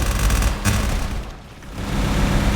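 Headshot skill effect of the Captain class in the MapleStory video game, a dense, booming gunfire-like barrage that stays loud throughout, dipping briefly midway before surging again.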